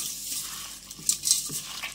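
Close, wet stirring and mashing of tomato, onion and herbs in a bowl for raw tamarind rasam, with a few light clinks of a utensil against the side.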